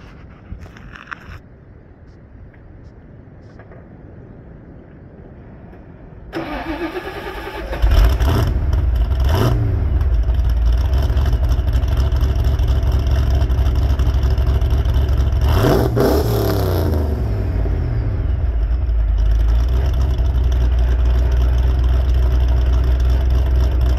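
A big supercharged plow truck engine cranks and fires, then roars up into a loud, steady rev with a couple of throttle blips, close and continuous with a high whine.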